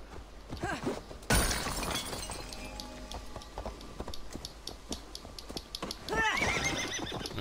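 A horse in the video game Assassin's Creed Valhalla whinnies loudly near the end, with hooves clip-clopping throughout and a sharp crash of something breaking early on.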